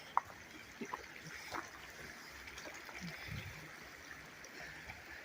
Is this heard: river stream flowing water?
yes